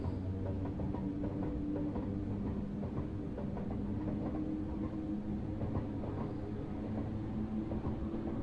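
A Class 402 2-HAL electric train brakes in Train Simulator Classic, giving a low, continuous rumble with faint clickety rail noise that holds at a steady moderate level throughout.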